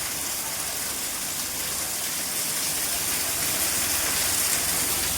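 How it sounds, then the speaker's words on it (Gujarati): Heavy rain pours down steadily outdoors during a monsoon downpour, a dense continuous hiss of water at constant loudness throughout, with no voices. "ધાર નથી ખેંચતો એવો વરસાદ આવે છે."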